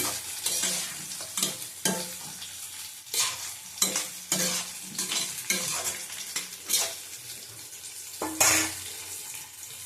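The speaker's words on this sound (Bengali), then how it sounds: "একটা লঙ্কা ফাটিয়ে দিলাম আর সব গোটা দিলাম। ভালো করে কষিয়ে নেবো।" Chili and whole spices stir-fried in a pan with Kashmiri chili powder for a katla fish and potato curry: repeated close scraping stirs over a steady sizzle, with no talking.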